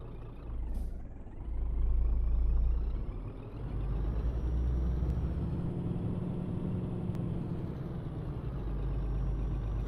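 A Scania R truck's air handbrake engages in Euro Truck Simulator 2 with a short sharp hiss near the start, over a continuous low diesel engine rumble that swells and settles.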